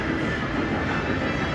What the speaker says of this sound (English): a train just passed us